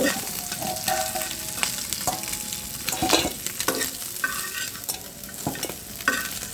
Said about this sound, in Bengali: মাছটা সুন্দর করে উল্টে পাল্টে ভেজে নেব